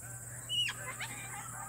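A cockatoo at an animal park gives a short, sharp screech followed by a fainter call, close by over a low steady hum.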